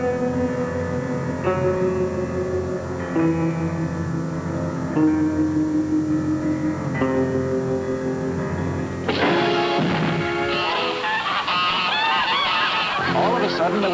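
Geese honk in a loud, overlapping clamor, first steady tonal calls and then a burst of frantic cackling as the startled birds scatter, close and busy with no talking.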